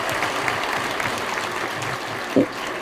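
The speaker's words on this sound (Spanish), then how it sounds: "Un fuerte aplauso." An audience at a Spanish-language religious testimony event applauds with sustained, dense clapping throughout, a brief louder knock near the end.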